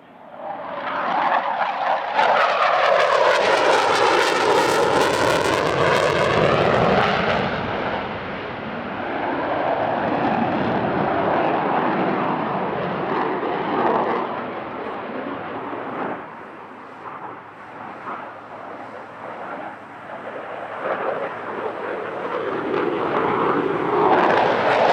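An F/A-18 Super Hornet military jet roars through an airshow display, a loud engine howl rising and sweeping past with a strong doppler shift, then a sustained rumbling thrust that fades slightly and builds again, heard alone without talk.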